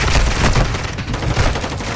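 Dense, sustained gunfire from several shooters at once in a first-person shooter match, a continuous loud clatter of rapid shots and booms with no pauses.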